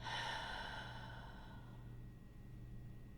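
Slow, deep inhale followed by a long exhale during a guided healing meditation, soft and close, with breathy hiss that gradually fades, no talking.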